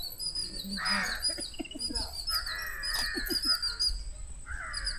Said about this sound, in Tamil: பறவைகள் சத்தம் எப்படி இருக்கு?